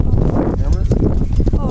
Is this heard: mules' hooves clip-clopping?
yes